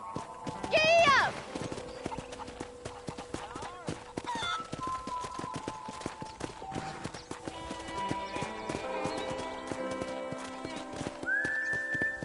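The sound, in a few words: horse galloping and neighing in Red Dead video game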